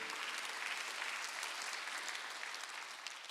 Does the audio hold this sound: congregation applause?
yes